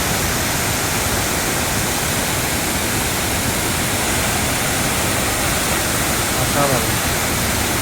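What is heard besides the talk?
waterfall at Netarhat, Ranchi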